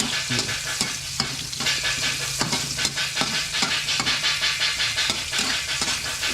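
Onion and garlic for duck adobo sizzle in oil in a farm kitchen. A spatula scrapes and taps the pan in a quick repeated rhythm over a steady close frying hiss, with a low hum beneath it.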